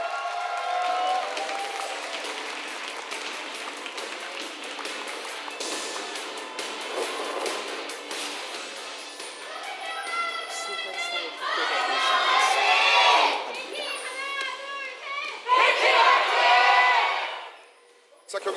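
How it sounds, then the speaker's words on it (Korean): An esports crowd at a League of Legends match, KT versus HLE, claps and cheers as the first set begins, swelling into loud shouting bursts mixed with announcer talk and game sounds. "여러분의 박수와 함께 첫 번째 세트 지금부터 시작합니다"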